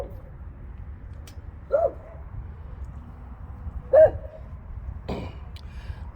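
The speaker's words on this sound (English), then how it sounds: "Let's go see what he's barking at." A dog gives three short barks spaced a couple of seconds apart, somewhat distant and modest in volume over a low background hum.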